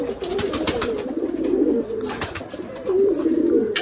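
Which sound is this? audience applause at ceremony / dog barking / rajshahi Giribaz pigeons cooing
rajshahi Giribaz pigeons cooing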